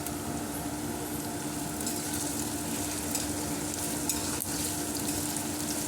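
Thinly sliced green chillies fry with golden onions in a pan, giving a continuous dense sizzle close up with light stirring and no voices.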